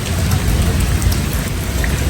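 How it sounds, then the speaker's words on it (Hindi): Heavy rain pours steadily outside a government staff quarters during a storm, a dense, loud, continuous roar of drops hitting surfaces with no voices over it. "अभी भी इतनी कुछ तेज़ बारिश हो रही है ना"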